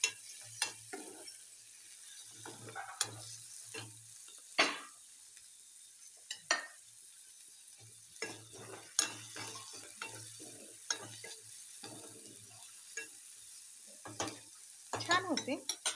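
Tomato frying in a pan for a vegetable curry, with a steady low sizzle broken by repeated scraping stirs and sharp clinks of a spatula against the pan, close and moderately quiet.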